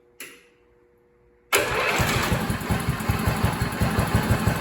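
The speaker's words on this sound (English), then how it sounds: "first we try to start it" A three-wheeler being fixed up cranks with a brief starter whir, pauses, then catches and settles into a loud close idle with a rapid, even chugging pulse, no voices.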